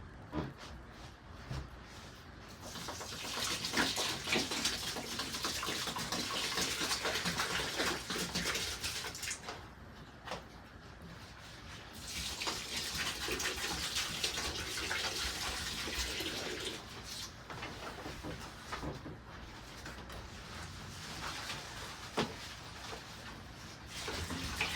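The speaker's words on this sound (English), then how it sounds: "Yeah, you hear that drainage?" Water draining through the soil of a freshly planted potted monstera set over a bucket, a steady rushing, splashing trickle that runs close and fairly loud for the whole stretch, briefly easing before surging again.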